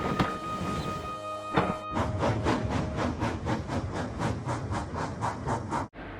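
Toy die-cast steam engine Edward chuffing along with a string of empty freight cars, a steady rhythmic puffing with hissy texture, close and continuous, ending in a brief pause.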